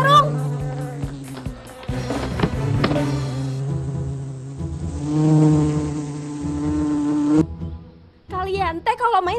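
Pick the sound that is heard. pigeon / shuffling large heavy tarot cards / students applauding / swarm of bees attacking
swarm of bees attacking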